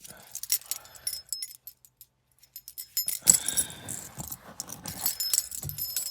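Car keys jangle and clink in quick bursts near a 1982 Chrysler Imperial, metallic rattles starting and stopping with a short quiet gap, then louder jingling as a person talks.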